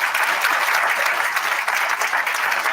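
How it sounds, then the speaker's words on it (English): Steady, dense applause from an indoor lunch crowd continues without a break for a few seconds, loud and close, with no speech over it. "Let's give them a round of applause"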